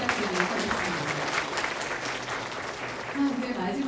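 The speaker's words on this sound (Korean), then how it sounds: "두 분께 응원과 격려의 박수 다시 한번 부탁드리도록 하겠습니다" An audience applauds at a public town-hall meeting with the governor in Seogwipo, Jeju, a dense continuous patter of many hands clapping at moderate distance throughout.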